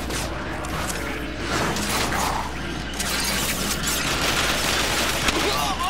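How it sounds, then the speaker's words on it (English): Dense gunfire and mechanical clanks in the video game Transformers: War for Cybertron, a continuous loud barrage of shots and effects with no clear pauses. "Hey, stop shooting me."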